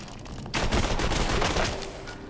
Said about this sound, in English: Or this is my new assault rifle.